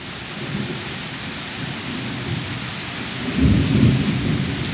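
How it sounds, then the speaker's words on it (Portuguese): Steady heavy rain pours down in Porto Alegre, then a loud, deep thunder rumble swells partway through and lingers under the downpour. "Forte trovão também."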